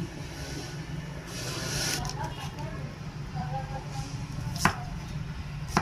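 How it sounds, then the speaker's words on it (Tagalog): Onion and garlic chopped with a knife for a home sautéed dish, a few sharp taps over steady background noise and faint talk. "Maghihiwa na po ako ng mga rekado. Sibuyas at bawang."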